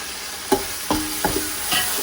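A spoon scrapes and stirs thick masala in a pan while making crab curry, a few distinct knocks and scrapes spaced about half a second apart over a soft background sizzle.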